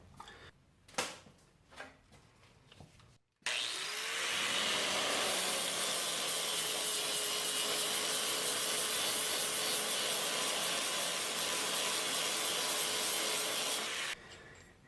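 A power abrasive grinds a steel welding table surface down to bare metal, a loud continuous rushing whine lasting about ten seconds after a few short clanks and handling knocks.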